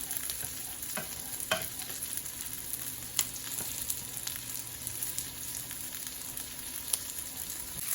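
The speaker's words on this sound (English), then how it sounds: "we want to add that milk right on in there. And we will just use a serving spoon to mix that up" A serving spoon stirs milk into a skillet over a soft steady sizzle, with a few sharp scrapes and clinks against the pan.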